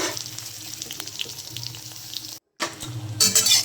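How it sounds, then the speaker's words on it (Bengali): Brinjal (eggplant) pieces fry in oil with a steady crackling sizzle that runs nearly unbroken, stops for a brief gap, then resumes louder and brighter for the last second. "আমি বেগুনগুলো শুদ্ধ ভালোভাবে ভেজে রাখবো আগে থেকে"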